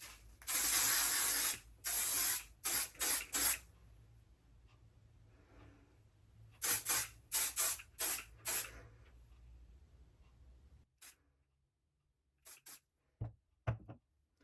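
Matrix hairspray sprayed onto hair in short, close, loud hissing bursts, two longer blasts then quick clusters of brief sprays separated by quiet gaps, with no talk over them.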